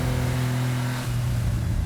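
A 1991 Honda Beat kei car engine drones steadily at close range while driving on a tight road, its low hum dropping slightly in pitch about halfway through as the revs change, with no talking.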